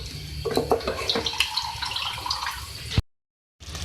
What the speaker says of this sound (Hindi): अब मैं इसमें 1 कप पानी ऐड करूँगी